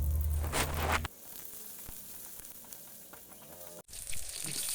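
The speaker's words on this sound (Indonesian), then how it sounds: "Lalu masukkan bawang merah dan bawang putih. Setelah itu dioseng hingga merata." Shallots and garlic sizzle in hot oil in a pan, a loud burst at first that settles into a steady quieter frying crackle, with a brief stirring scrape near the end.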